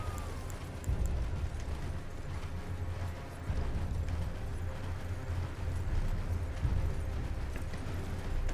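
Horse galloping in the video game Elden Ring, a steady rhythmic pounding of hooves that carries on through the whole stretch with a few heavier thumps, close and fairly loud, no voices.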